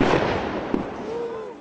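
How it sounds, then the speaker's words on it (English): A sharp bang and crackling bursts of gunfire ring out as police move in on a hostage standoff in which firefighters were held, the shots ragged and echoing over a steady roar of background noise. "A loud bang, then volleys of gunfire."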